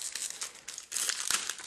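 A Yu-Gi-Oh card pack wrapper is torn open by hand, loud close crinkling and ripping of foil plastic in rapid bursts with a sharper tear near the end.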